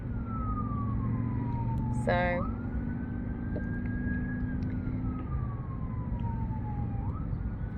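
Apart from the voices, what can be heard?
ambulance siren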